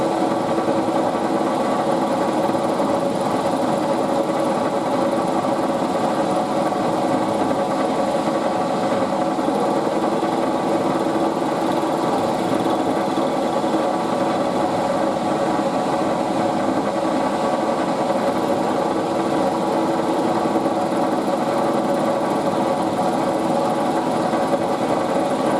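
Steady mid-pitched hum of a machine tool cutting an aluminium bracket, a WW2 windscreen bracket for a Morris CS8, running continuously and evenly at close range with no voices.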